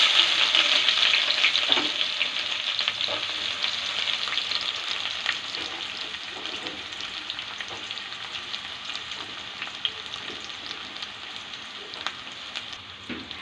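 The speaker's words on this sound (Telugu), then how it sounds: "ఇవి కాస్త వేగాక ఆనియన్స్ వేసేసుకుందాం" Onions fry in oil with cloves and bay leaves for chicken biryani, making a dense, crackling sizzle that stays loud and close throughout and eases slightly toward the end, with occasional stirring taps.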